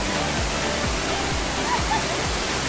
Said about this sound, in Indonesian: Nah, curug kecilnya ini.